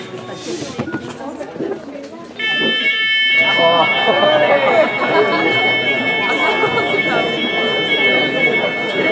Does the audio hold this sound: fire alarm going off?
yes